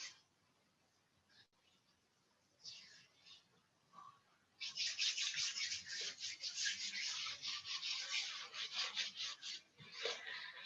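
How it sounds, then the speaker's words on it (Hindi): Hands rub briskly over the body during a morning breathing practice, quiet scattered rubs giving way to steady close-up rasping friction for the last six seconds. "हम पहले अपनी बॉडी को थोड़ा सा रब करेंगे"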